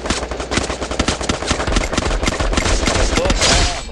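Rapid gunfire from the Free Fire battle royale game crackles in dense, fast bursts of loud, sharp shots that run almost without a break, close and harsh.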